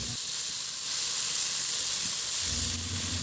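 Tomatoes sizzle loudly as they go into a hot pan with onions and squid, a continuous bright frying hiss that swells after the first second and carries on steadily, with a low clatter near the end and no talking.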